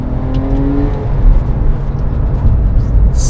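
A second-generation Porsche 997 911 engine pulls hard under throttle out of a corner, a close, loud, steady drone with a rising tone early on and road rumble beneath.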